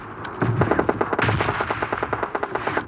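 Rapid automatic gunfire from the mobile shooter game PUBG Mobile Lite rattles in steady, fast bursts, loud and continuous through the whole stretch.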